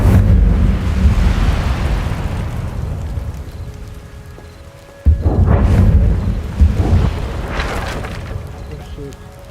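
A whooshing, rumbling fire spell cast in Hogwarts Legacy, two loud roaring bursts separated by a short drop, the first fading gradually and the second flaring up midway.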